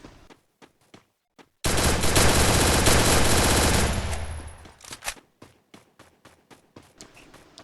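Sustained automatic gunfire from the Free Fire video game, a dense loud burst lasting about two seconds, framed by scattered single shots and short clicks before and after.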